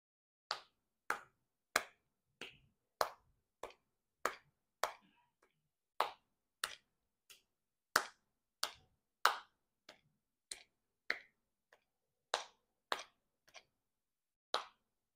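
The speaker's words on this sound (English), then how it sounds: "Sit for 15 seconds while you clap your hands" One person claps hands slowly and evenly beside a dog holding a sit during a calm-training exercise, about twenty single crisp claps spaced under a second apart in a quiet room.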